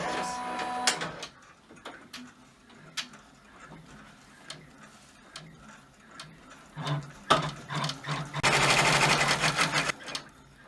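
An embroidery sewing machine stitches a placement line for a wine bottle tuxedo apron in the hoop, with steady rapid mechanical clatter that stops and restarts in bursts, louder toward the end.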